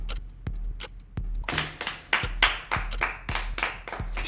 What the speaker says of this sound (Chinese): 鼓掌啊，写的这么好。